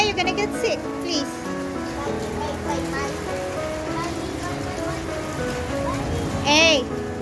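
Rain falls steadily throughout, a continuous hiss with scattered drops on surfaces, while children talk and call out over it nearby.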